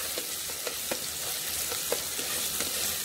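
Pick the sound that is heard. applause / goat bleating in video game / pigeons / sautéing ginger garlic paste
sautéing ginger garlic paste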